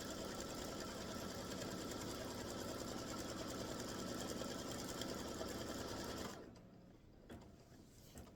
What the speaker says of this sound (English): it's going to go and stitch all the placement stitches, not one at a time